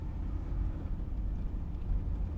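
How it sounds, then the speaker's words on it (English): A 1995 Chevy G20 conversion van's engine revs while driving on a road, a steady low rumble that holds near and continuous throughout with no voices. "Rev it up out here on this road."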